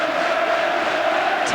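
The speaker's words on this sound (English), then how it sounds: "could hardly get any more noise from this crowd" A packed stadium crowd at a 1992 Champions League match between Leeds and Stuttgart roars in a dense, sustained wall of noise, with a commentator's voice running over it.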